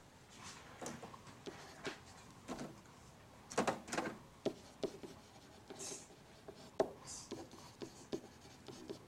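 Pen or marker writing out a vector equation for a line, a series of scratchy strokes and taps in uneven rhythm, close and quiet, with no talk.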